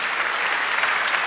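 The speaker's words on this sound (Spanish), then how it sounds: "Denle otro aplauso a Jesús" A church congregation applauds. The clapping is short, dense and continuous, and stays evenly loud for about a second.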